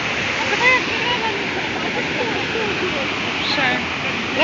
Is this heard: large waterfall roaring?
yes